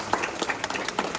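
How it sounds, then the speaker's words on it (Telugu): A church congregation claps together in a dense burst of applause, many hands close and lively for a short moment, with some voices mixed in. "క్లాప్స్ కొడదాం."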